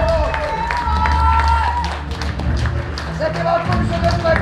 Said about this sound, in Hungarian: Hatalmas tapsot a lányoknak!